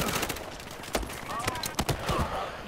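Pistol shots crack in the video game Battlefield Hardline, a scattered series of sharp reports at irregular intervals amid other game noise, moderately close.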